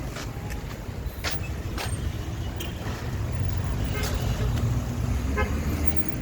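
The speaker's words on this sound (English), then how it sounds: "That's Tuesday morning traffic." Tuesday morning street traffic at the corner of Charles Street and Broad Street, a steady roar of passing cars with a few short horn toots, moderately loud and continuous.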